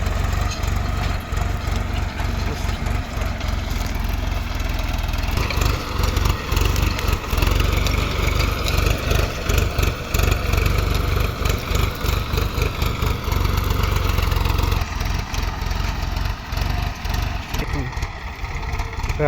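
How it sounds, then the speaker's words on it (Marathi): Swaraj 744 XT tractor ploughing a wheat field, a loud close diesel engine chugging steadily with a deep low throb, its load shifting in places as the machine works and turns. "आता वळत आहे ट्रॅक्टर."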